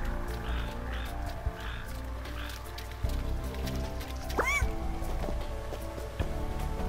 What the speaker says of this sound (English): there's a frog in the water